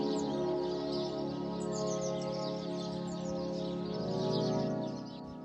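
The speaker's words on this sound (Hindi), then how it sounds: "गौरैया जो अपने छोटेपन और चहचहाने वाली आवाज़ के लिए जानी जाती है" House sparrows chirping in a continuous busy chatter of small bird calls, with a steady low drone underneath.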